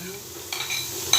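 Onion and ginger sautéing in a pan, a soft steady sizzle with faint stirring scrapes.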